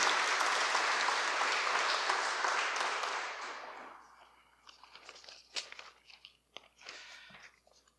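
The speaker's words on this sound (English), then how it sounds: "Let's give them a round of applause too" Dense crowd applause at an evening memorial ceremony fills the first few seconds, then fades into scattered claps and light rustling.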